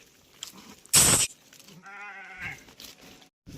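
A single close sheep bleat, wavering and nasal, follows a sharp burst of noise, with faint scuffling around it.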